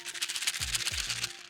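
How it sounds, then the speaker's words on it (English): Small spicy Mintia mint pellets rattle inside their little box, a faint close-up shaking clatter with two brief low thumps as the box is jiggled, no voices. "That's the sound of little pain pellets in a box."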